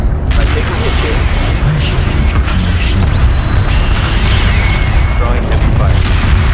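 Heavy weapons fire and booming explosions from space combat in the Homeworld MACROSS mod, dense and loud, with deep rumbles and sharp bursts layered throughout.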